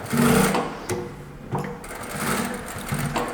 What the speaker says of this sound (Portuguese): o ideal é termos de facto uma máquina de duplo transporte